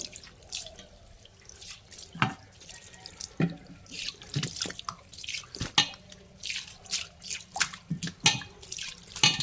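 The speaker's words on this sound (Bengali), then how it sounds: "এই যে তোমাদের সাথে গল্প করতে করতে বেসিংটাও ধুয়ে ফেললাম তার মধ্যে" Running tap water splashes into a bathroom wash basin as it is scrubbed clean, with irregular drips and splashes close by and no talking.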